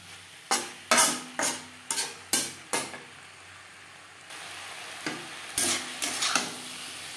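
Flat beans and pumpkin with slit green chillies and tomato are stirred in a pan over high to medium flame, bursts of sizzle and spatula scrapes coming in an uneven rhythm with a quiet stretch in the middle.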